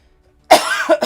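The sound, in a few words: coughing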